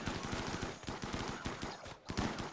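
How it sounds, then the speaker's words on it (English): Deployable mini turrets fire in the video game RimWorld. They let out rapid, steady bursts of machine-gun shots that rattle on with a brief pause near the end, moderately loud and with no speech. "Deployable mini turrets, guys."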